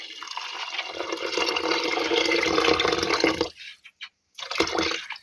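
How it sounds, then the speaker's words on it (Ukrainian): Water pouring steadily onto rice in a pot while making plov, a continuous rushing splash for several seconds that stops abruptly, followed by a brief renewed trickle. "заливаю водою"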